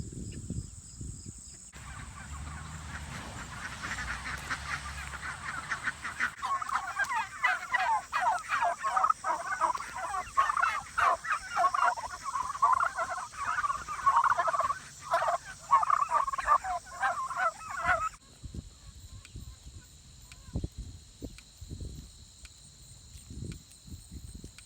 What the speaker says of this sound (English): These are all meat chickens.